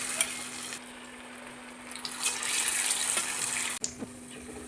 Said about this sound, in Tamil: காஞ்ச எண்ணெயில் போட்டுக்கலாம்.